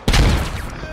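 A loud, close burst of gunfire in the SquadOps military shooter game, one sharp crack followed by a rolling, decaying echo over about a second.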